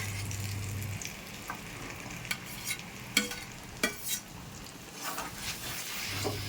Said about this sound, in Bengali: এবার ভেজে রাখা আলুগুলো আর চিংড়ি মাছ দিয়ে দেবো